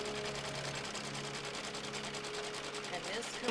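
An embroidery sewing machine running a final tack-down stitch on a machine-embroidered diamond quilt block with an appliqué, a fast, even mechanical rattle of needle strokes that carries on steadily at moderate level.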